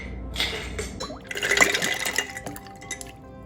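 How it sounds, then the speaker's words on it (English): Ice cubes drop into cold tap water, giving a burst of clinks, splashes and liquid sloshing against the container, loudest midway before settling into scattered faint clinks. "we're going to add some ice cubes"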